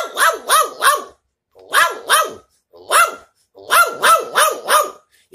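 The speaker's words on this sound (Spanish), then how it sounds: "El perrito chihuahua" A chihuahua yaps in quick bursts of three or four sharp, high barks, pausing between each volley, loud and close.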